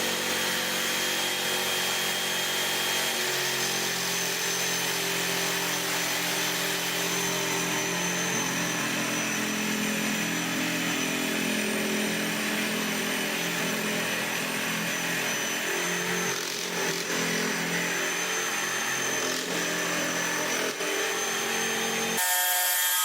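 Jigsaw mounted upside down beneath a table saw extension, cutting continuously with a steady buzzing motor drone and rasping blade for over twenty seconds, close and fairly loud, with no talking.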